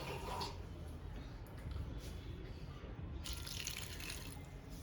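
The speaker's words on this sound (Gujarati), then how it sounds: "હવે આપણે એમાં થોડું એવું પાણી એડ કરીને પીસી લઈશું" A small amount of water trickles into a grinder jar while a winter juice is being made, a soft, steady pour lasting several seconds at close range.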